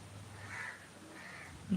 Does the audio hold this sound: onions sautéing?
no